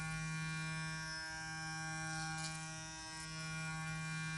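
An electric facial cleansing brush buzzes with a steady, even, high-pitched hum close by, holding constant with only a slight dip partway through.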